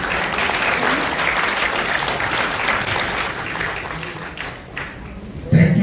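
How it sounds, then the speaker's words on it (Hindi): Audience at a one-day training and placement workshop clapping in a sustained, dense round of applause that fades toward the end, with a voice breaking in at the close. "एक बार सभी लोगों से हाथ तालियां के साथ"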